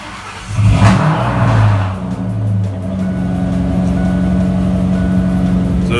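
A 1996 Ford Mustang Cobra engine on its stock exhaust gives one sharp, loud rev that falls away, then settles into a steady, rumbling idle close by.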